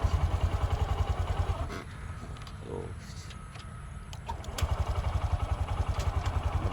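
A motorcycle engine idles with a rapid, steady low thrum, drops away briefly while it is put in gear and the clutch is eased out, then returns as loud, close, pulsing running.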